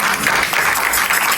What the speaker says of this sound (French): Est-ce que nous pouvons acclamer pour ce mouvement?